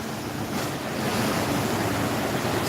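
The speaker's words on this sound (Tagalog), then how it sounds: "Malakas ang alon guys." Strong surging floodwater waves slosh and roar steadily near the Nabua public covered court in Camarines Sur, a loud continuous wash of water mixed with gusty wind buffeting the microphone.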